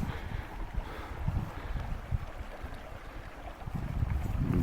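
Steady rushing water of a flooded creek roars close by, a dense broadband wash with low rumbling surges and gusty buffeting, no voices.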